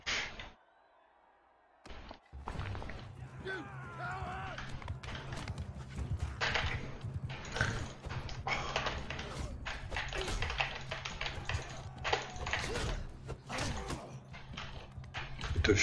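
Horse hoofbeats in the video game Mount & Blade II: Bannerlord, a steady clatter of galloping hooves with battle tapping and thuds, running loud and continuous after a short quiet start.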